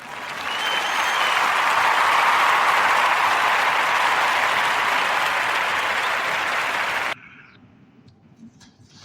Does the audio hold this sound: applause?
yes